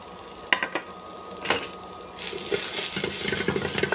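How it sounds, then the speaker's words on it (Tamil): Gooseberries, red chillies, tamarind and curry leaves sauté in a pan. A few sharp clinks from a metal utensil come first, then a steady close sizzle builds and carries on. "அதே பேன்லேயே நம்ம எடுத்து வச்சுருக்கிற நெல்லிக்காய், சிகப்பு மிளகாய், புளி, கருவேப்பிலை இதையெல்லாம் சேர்த்து நல்லா வதக்கிக்கலாங்க"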